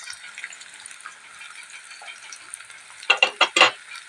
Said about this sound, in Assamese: পিঁয়াজখিনি অলপ ৰঙচুৱা হোৱালৈকে ভাজি ল'ম।